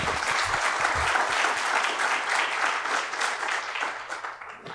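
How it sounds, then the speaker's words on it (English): A room full of people at a startup pitch event claps after a team's presentation, dense applause that stays strong, then thins and tapers off toward the end. "All right, round of applause."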